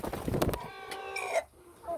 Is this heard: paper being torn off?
no